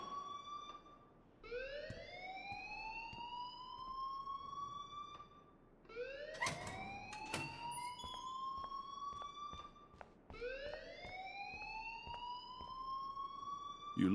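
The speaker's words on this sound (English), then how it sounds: "please turn off that alarm since that's your job" Fire alarm in the Life is Strange video game sounding in repeated rising electronic whoops, three long sweeping cycles over about fourteen seconds, loud and steady with faint background activity.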